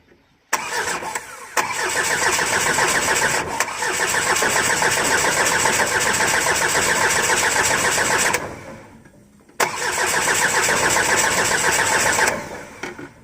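A Tata Telco truck engine is cold-started and roars loudly for several seconds. It drops away briefly, then catches and runs again, close and steady.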